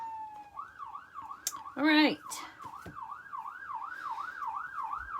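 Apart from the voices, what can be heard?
siren passing outside through an open window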